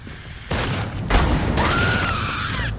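Grenade blasts in the shooter game Killing Floor 2: several loud, sharp booms in quick succession, followed by a rising whine and lingering rumble of combat.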